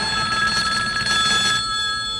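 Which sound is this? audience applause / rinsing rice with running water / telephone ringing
telephone ringing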